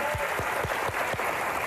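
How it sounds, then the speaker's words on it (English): Studio audience at a live morning talk show breaks into steady applause, dense clapping throughout with a few voices speaking over it. "That deserves a round of applause."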